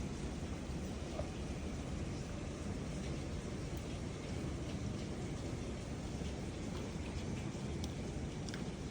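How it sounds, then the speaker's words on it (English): Steady rain falls after a heavy hailstorm has eased off, a soft, even patter that continues faintly with no voices. "It's more rain now. Yeah, it's easing off."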